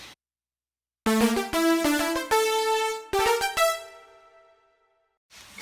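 Layered keyboard synth patches, blending a brass-type sound with brighter tones, play a quick run of stacked notes and chords that swell and fade, then another short phrase begins.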